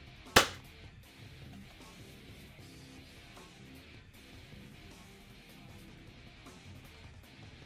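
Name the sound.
Adventure Force Nexus Pro foam dart blaster firing a shot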